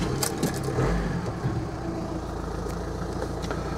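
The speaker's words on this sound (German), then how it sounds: "Ja, und so klingt dann so ein TDI." A VW T5 Multivan Highline with a 2.0 TDI Euro 5 diesel of 180 PS runs nearby, a steady low diesel drone with a slight rev early on before settling into an even idle.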